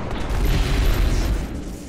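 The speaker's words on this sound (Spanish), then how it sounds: "Porque de repente ha explotado" A robot suddenly exploding in the XCOM Enemy Within video game, a dense booming rumble that fills the moment, loud and low with a rough decaying tail.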